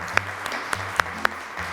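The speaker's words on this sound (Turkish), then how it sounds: "İki grubumuza da alkış geliyor." Brief scattered claps from a studio audience applauding both teams after a ring-toss round on a game show, a handful of sharp separate hand claps at moderate distance over a low background hum.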